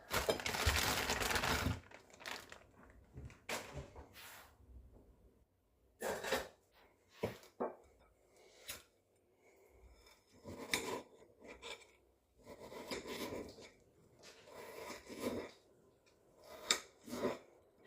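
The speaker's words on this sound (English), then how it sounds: "So I'm going to cut it up now into smaller pieces" A knife chops and scrapes through frozen chicken on a board in irregular bursts of cutting strokes, with pauses between, close by and no talking.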